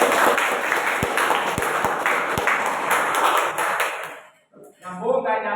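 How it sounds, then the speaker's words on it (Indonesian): Classroom applause from a group of students clapping hands together, a dense, steady patter of claps that fades out, followed by voices talking. "Tepuk tangan lagi."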